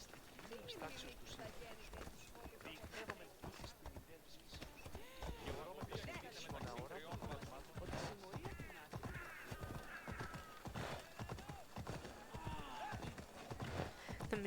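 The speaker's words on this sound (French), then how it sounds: "Bon, on va prendre le cheval là." Horse hooves clip-clop steadily in a video game, with a horse whinnying at moments, running under nearly continuous talk from a player.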